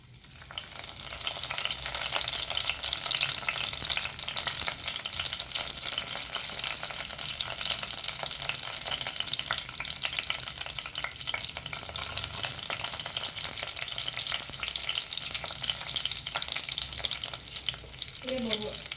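Curry leaves, pandan pieces and garlic sizzle in hot oil for a meat curry, a steady loud frying hiss with light stirring clatter running unbroken throughout, no talking.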